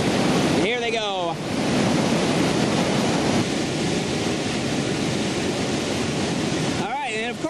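A raft drops through a rushing tongue of rapids on the New River, the roar of churning whitewater loud and continuous from start to finish, with a voice briefly heard near the start and again near the end.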